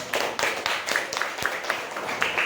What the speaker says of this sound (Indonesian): Mari kita tepuk tangan untuk usaha kita semua.